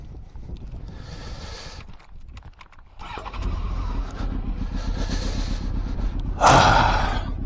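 A Honda Fireblade motorcycle starts up near a harbour. After a breathy, uneven start, a deep engine rumble rises and holds steady, with a sharp, louder burst near the end as the bike pulls away.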